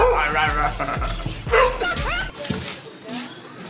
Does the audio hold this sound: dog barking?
yes